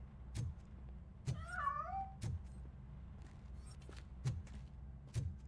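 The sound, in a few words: cat escaping in a video game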